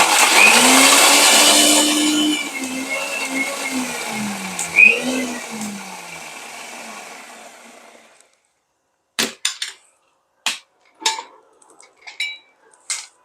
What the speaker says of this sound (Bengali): আমার ব্লেন্ডারটা এত সাউন্ড হয়